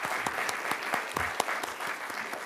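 An audience in a county board of supervisors meeting room applauds for a Monsignor, a steady, even wash of many hands clapping throughout.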